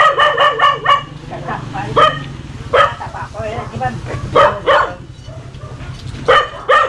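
A dog barks and yips in repeated bursts close by, mixed with people talking over it.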